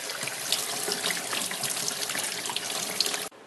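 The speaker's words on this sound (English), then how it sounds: "And rinse it with hot water." Hot tap water pours steadily over carburetor parts from a 1985 Honda CB450 being rinsed in a sink, a close, continuous splashing rush that cuts off abruptly at the end.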